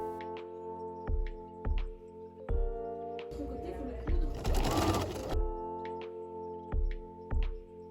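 A sewing machine stitches a fabric fanny pack seam in short, repeated bursts of rapid mechanical clatter, with a longer run in the middle and a steady tonal hum underneath.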